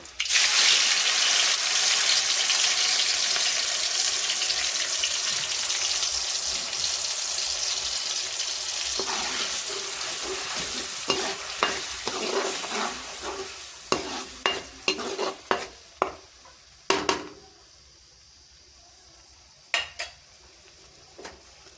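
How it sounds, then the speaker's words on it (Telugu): Onion and tomato paste frying in oil in a pan sizzles loudly and steadily at first, then settles into quieter bubbling broken by sharp stirring scrapes and clicks of a spoon against the pan. "ఆనియన్ అండ్ టమాటా పచ్చి వాసన పోయేంత వరకు ఆయిల్లో మగ్గనిద్దాం."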